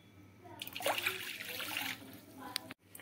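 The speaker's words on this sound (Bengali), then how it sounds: "এখানে আমি 1 কাপ জল দিয়ে দিলাম আর 1 কাপ জল আমি ব্যবহার করব" A cup of water pours into a cooking pan while making carrot pitha, a brief splashing gush lasting about two seconds that ends with a soft knock, close and moderately loud.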